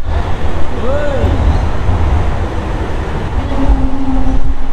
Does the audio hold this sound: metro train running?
yes